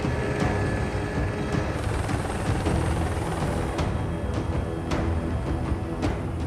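Helicopter flying over a flooded area, heard from inside as a steady loud rotor and engine rumble with faint rattles and clicks, continuous throughout with no talking.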